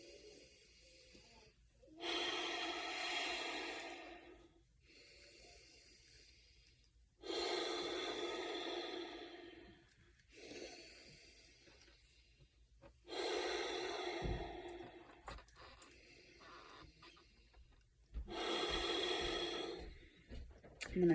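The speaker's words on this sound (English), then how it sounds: "tune in with your breath and begin to breathe deeply here" Slow, deep breaths during a womb-healing meditation practice: long, airy inhales and exhales close to the microphone, repeating about every five seconds with quiet gaps between, no talking.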